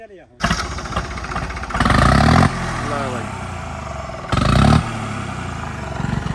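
A 50 HP Swaraj 3630 tractor fitted with an aftermarket turbo and an AC cabin runs close by with a steady engine drone, rising louder in two bursts of revving, while someone talks over it.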